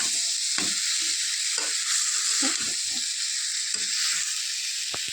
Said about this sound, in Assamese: বকলিখিনি আৰু আলুখিনি দি দিলোঁ। এনেকৈ মই ভাজি থাকোঁ।